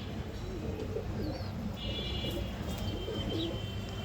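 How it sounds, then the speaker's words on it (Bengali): Pet pigeons in a home coop give soft, low cooing calls, faint against a steady background hum, with a few brief chirps mixed in. "এই যে আমাদের কবুতরের ঘর কিছু কবুতর পালি আমরা শখের বসে"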